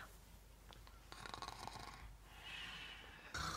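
A person asleep snores softly in a quiet room, giving a few faint, rasping breaths with a louder snort-like burst near the end.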